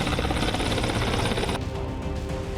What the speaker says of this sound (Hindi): भारतीय वायुसेना के ताकतवर लड़ाकू विमानों और हेलीकॉप्टर्स ने एक के बाद एक उड़ान भरी